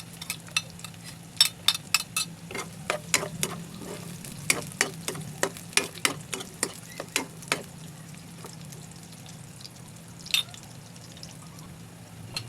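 Garlic for adobong batikulon crackles in a pan in scattered sharp pops and spits over a quieter steady sizzle, close by and fairly faint.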